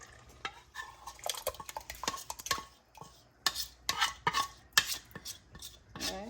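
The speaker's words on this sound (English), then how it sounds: "you wanna make sure you start stirring it" Cornmeal porridge being stirred in a pot of boiling water, giving a run of scraping, clinking strokes at an irregular, fairly quick rhythm, close up with nobody talking.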